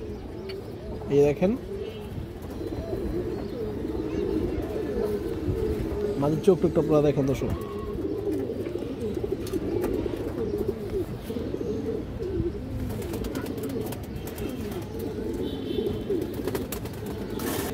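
A large silver-necked female pigeon coos among other birds, low murmuring calls running continuously beneath someone talking close up.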